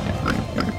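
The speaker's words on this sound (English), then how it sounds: "He hears the sound of pigs." Pigs oink and grunt in a short, close burst of snorting noises.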